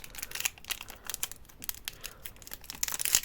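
Plastic packaging is crinkled and rustled close by while being unpacked into a small plastic bag, a continuous crackling with sharper tears and crunches throughout and no talking.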